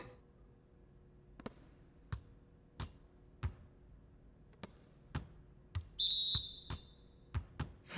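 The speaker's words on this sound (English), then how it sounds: "Every single time I hear the whistle, I'm like, is that a charge call?" Short shrill referee whistle blast from an NBA 2K25 basketball game, heard once amid a steady rhythm of ball bounces on a court floor; no speech.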